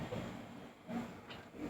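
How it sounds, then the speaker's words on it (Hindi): A Nagpur–Shahdol passenger train with ICF coaches pulls out of an Indian railway station, a low steady rumble of wheels and carriages with faint hiss, heard at a distance and fairly quiet throughout. "नागपुर शहडोल डिपार्ट कर रही है और हमारी ट्रेन का अराइवल हो"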